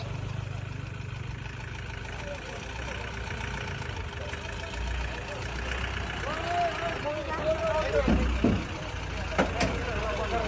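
A new vehicle's engine idles and runs at the start of its first trip to a temple, a steady mid-pitched drone beneath a lively crowd of people talking nearby.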